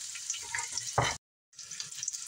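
Cauliflower tortilla mixture frying in a pan gives a close, steady sizzle, with a brief louder burst and a short silent gap before the hiss resumes.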